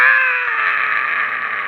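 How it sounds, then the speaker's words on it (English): People scream in panic as their craft, just shot and with comms down, crashes in a Walking Dead reboot scene; one loud, sustained, high-pitched scream holds steady for nearly two seconds, close and unbroken, with no talk over it. "As everyone is screaming"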